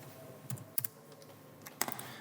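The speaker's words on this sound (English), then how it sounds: "I push escape a couple of times on my keyboard" A few quiet keyboard key presses, including repeated escape-key taps, in small clusters of clicks spread across a near-silent background with no voices.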